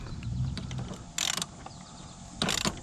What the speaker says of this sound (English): Take apart all these bolts.